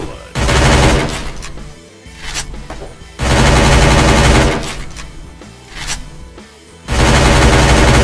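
Desert Eagle pistol fire in the Free Fire video game comes in three loud, close, dense bursts, separated by quieter gaps with lighter shots.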